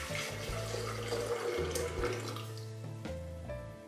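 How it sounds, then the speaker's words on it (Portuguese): Boiling water poured into a blender jar for a strawberry gelatin pudding, a steady close splashing stream lasting several seconds with no talking. "Acrescente no liquidificador a água fervente"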